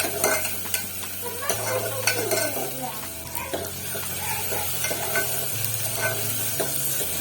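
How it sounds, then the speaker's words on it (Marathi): Chopped onion and tomato being sautéed in a pan as the base for chicken 65, with steady frying sizzle and repeated scraping stir strokes close by throughout. "लालसर होईपर्यंत परतून घ्यायचा. एक छोटा टोमॅटो आणि कांदा टाकलेला."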